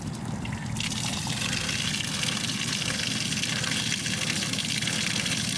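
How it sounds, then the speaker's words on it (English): Water pours steadily out of a Sea-Doo boat hull and bilge, a continuous close splashing trickle with a faint mechanical hum underneath, no talking. "See how much water comes out of it."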